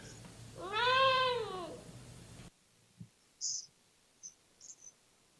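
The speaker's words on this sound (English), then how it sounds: "Do you hear the meow of the cat?" A single cat gives one clear, drawn-out meow up close, followed by near silence broken by a few faint, short chirps and clicks.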